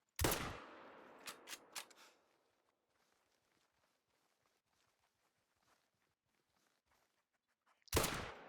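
Rifle shots in the hunting game Hunter: Call of the Wild: a loud sharp crack followed by a few quicker, quieter reports, then a long near-silent stretch before another loud blast at the end.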